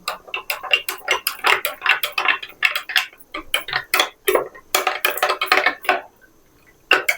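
Vegetables mixed with a spoon in a bowl for a homemade vegetable soup with corn kernels, a busy run of quick clicking and tapping strokes against the bowl, close and steady before a brief pause.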